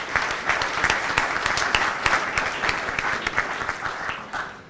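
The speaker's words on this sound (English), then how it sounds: "Let's give him a round of applause." Audience applause fills a school board meeting room, dense sustained clapping from a crowd at steady loudness across the whole stretch, tapering slightly at the end.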